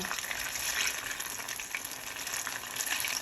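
Steady, crackling sizzle of banana lumpia frying in hot oil, close and continuous with no voices.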